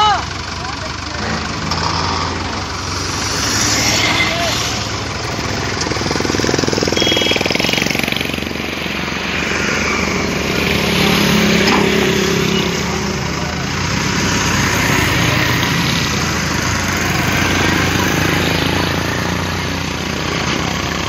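A Manitou telehandler's diesel engine runs steadily and loudly while it lifts a load, with a rough, rattling drone that swells slightly at times, and someone talks over it.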